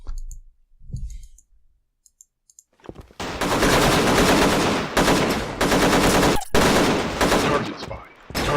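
AKM rifle fired by bots in a first-person shooter game: after a few quiet clicks, loud sustained automatic bursts with brief gaps, close and dense.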